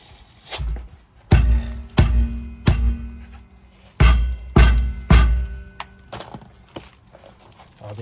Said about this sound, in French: alors quand il n'y a pas le choix, on prend le marteau.